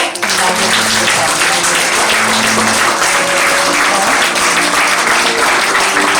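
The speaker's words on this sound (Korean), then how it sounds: "우리 강경철 회장님께 큰 박수로" Sustained loud applause from a large audience at a Korean Christian arts association ceremony, clapping steadily throughout with a voice and musical tones underneath.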